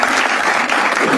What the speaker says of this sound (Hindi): एक बार जोरदार तालियां हो जाए श्रेया प्रियम के जबरदस्त खेलने के लिए।